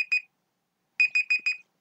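A timer alarm beeps in short electronic bursts: two quick beeps, a pause, then four more in a steady rhythm, clear and alone.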